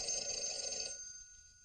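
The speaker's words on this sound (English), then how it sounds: "Your phone's ringing." An old 1950s telephone bell ringing nearby, a sustained bright metallic ring that stops partway through and leaves a fading hum.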